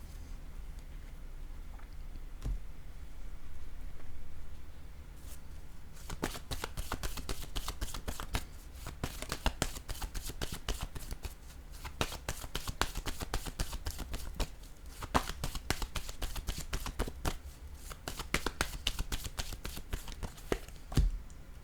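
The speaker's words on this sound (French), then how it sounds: "Je vais déposer une autre carte ici." Playing cards are laid down on a table one after another in a steady, close run of crisp taps and slaps, with a quieter stretch at the start before the rapid card sounds begin.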